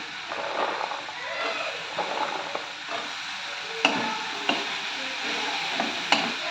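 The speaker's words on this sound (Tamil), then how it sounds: "அடுப்பை சிம்மில் வச்சு நல்லா வதக்கிக்கலாம்." Athalakkai gourd and tomato sautéing in a pan over a low flame, a steady close sizzle with intermittent scraping stirs and a few sharp spatula knocks, no talking.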